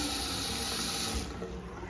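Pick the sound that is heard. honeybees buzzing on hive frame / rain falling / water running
water running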